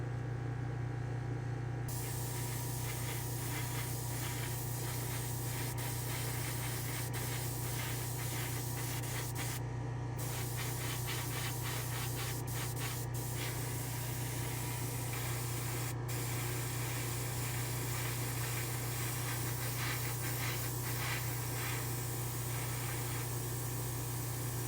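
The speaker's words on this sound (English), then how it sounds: "let's head back to the spray booth and we'll spray this stripe." Orange Wicked Colors paint sprayed in a booth to lay down a stripe: a steady airbrush-like hiss runs throughout under a constant low hum, with short breaks where the spray briefly stops, no talking.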